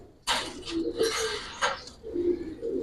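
Silver adult female Giribaz pigeon cooing in a loft, low throaty coos close by, mixed with bright scuffling and rustling noises.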